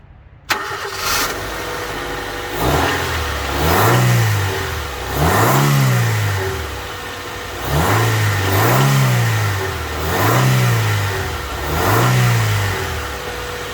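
A Honda Civic (EK) engine with a short ram air intake starts and then revs repeatedly in rising and falling bursts, loud and up close with a throaty intake roar.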